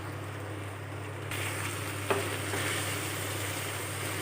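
Duck curry with potato simmering in a pot is stirred, giving a low steady sizzle and bubbling with a single sharp clink of the spoon against the pot midway; no one speaks.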